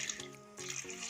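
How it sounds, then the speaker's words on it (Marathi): Hot water is poured into a pot of Nagpuri Saoji mutton curry, a brief, soft splashing pour heard close up. "आणि आपण ह्याच्यामध्ये आता गरम पाणी घालून घेऊया"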